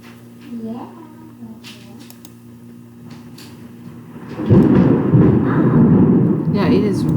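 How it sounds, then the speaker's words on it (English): Heavy thunder indoors, starting as faint distant grumbles and then breaking into a loud, sustained rolling rumble for the second half, with a voice speaking briefly near the start. "It is thundering really, really loud."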